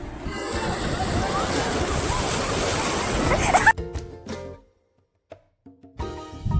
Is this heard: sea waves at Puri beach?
yes